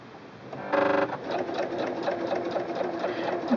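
A Singer Quantum Stylist 9960 sewing machine runs a straight stitch with two needles, its quick, close mechanical whir and rapid needle clatter running steadily after a brief louder burst near the start.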